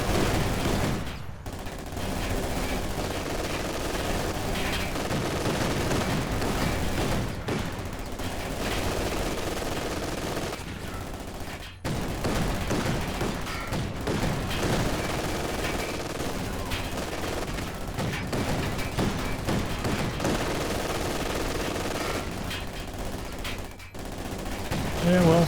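A 222 armored car in Company of Heroes 2 rakes shock troops with its machine gun, dense and continuous bursts of fire with brief pauses, loud and filling the whole battle scene.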